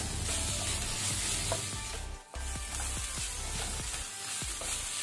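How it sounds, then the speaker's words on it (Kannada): Ginger garlic paste frying in a pan for a chicken roast, a steady close sizzle with scraping stirs and a brief dip midway, no voices. "ಸಾಕು ಶುಂಠಿ ಬೆಳ್ಳುಳ್ಳಿ ಪೇಸ್ಟ್ ಫ್ರೈ ಆಗೋದು"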